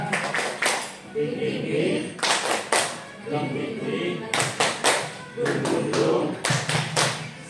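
A school group claps in unison in short rhythmic bursts of a cheer clapping routine, pausing between phrases, with a few voices mixed in.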